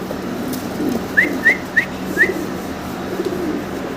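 A male oriental pigeon, one of several fancy pigeons kept for sale, gives four short, fairly clear calls in quick succession over a low, steady background hum.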